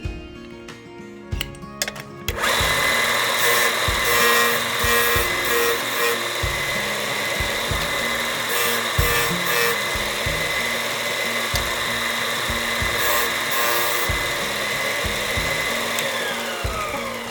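A power sanding tool whirs loudly against the brass tube of an olive wood pen blank in a workshop, starting after a couple of seconds of quieter handling and then running as a continuous rough hum with rhythmic grinding pulses.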